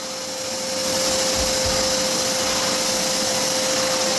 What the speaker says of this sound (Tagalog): Ana, vacuum time.